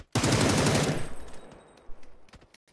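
Video game gunfire, a loud close burst of rapid automatic shots in the first second, then fading echoes and a few scattered quieter shots.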